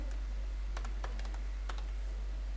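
Quiet clicks on a computer keyboard while typing in an Excel spreadsheet, a few scattered keystrokes in short bursts over a steady low electrical hum, close and faint, no talk.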